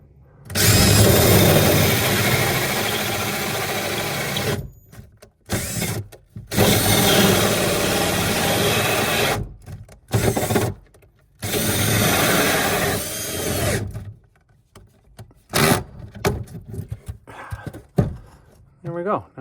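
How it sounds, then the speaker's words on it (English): A power drill whirs loudly in long bursts as it bores into material, stopping and starting several times with short pauses between runs. "put the drill right in the middle"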